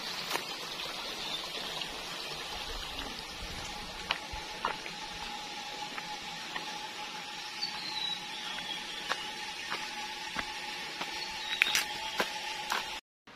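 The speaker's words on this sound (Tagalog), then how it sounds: "Ang dagayday sa sapa" A stream flowing steadily in a rural countryside setting near a coconut planting, a continuous soft watery hiss with occasional faint ticks and clicks, no talking.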